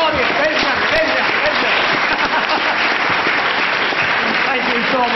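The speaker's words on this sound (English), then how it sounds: "a proper round of applause for these 4 brilliant" Dense, steady applause from an audience at a London School of Economics talk on crowdsourcing a new UK constitution, loud and sustained throughout with no pauses.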